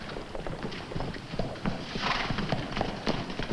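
Horses' hooves clip-clop in an irregular, busy patter on hard ground in an old Lone Ranger cartoon, moderately close and continuous with no talk over them.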